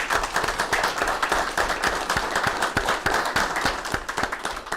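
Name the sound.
round of applause at city council meeting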